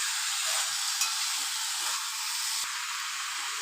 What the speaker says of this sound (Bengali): এইভাবে 5 মিনিট মশলার সাথে চিকেনটাকে কষিয়ে নিয়ে